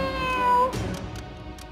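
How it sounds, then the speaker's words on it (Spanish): A cartoon cat gives a single clear meow in an animated children's series, followed by a few faint thumps and a quiet background. "¿pero qué hace aquí un gato?"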